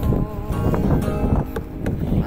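Loud, low rumbling wind buffeting the microphone, gusting continuously throughout with a faint tonal hum underneath.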